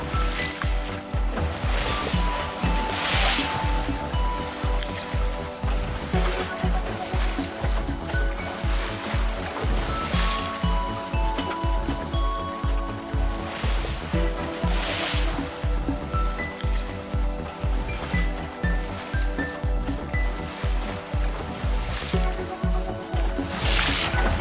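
Choppy water slapping around a small dinghy on Cowan Creek as the wind picks up, a loud, steady rushing and splashing wash with rhythmic knocks, close by and continuous, with no speech.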